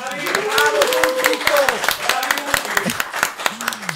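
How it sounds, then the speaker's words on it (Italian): Podcast studio audience clapping, a burst of scattered individual hand claps heard close, running under loud overlapping voices and cheering the whole time. "Fateci un applauso al pubblico, per favore."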